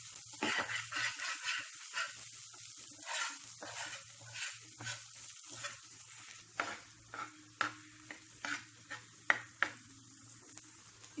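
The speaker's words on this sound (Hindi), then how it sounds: "ढाबे पे या जो रोड साइड स्टॉल्स होते हैं इसी तरह बनाते हैं तला हुआ गोश्त तवे के ऊपर।" Mutton pieces frying on a tawa, roadside dhaba style tala hua gosht, with a steady low sizzle under repeated scraping and stirring strokes of a spatula against the metal, growing sharper and more clipped toward the end.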